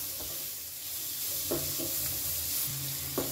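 Sliced onion and capsicum stir-fried in a pan, a close, steady hiss of sizzling with a few distinct spatula scrapes and taps against the pan.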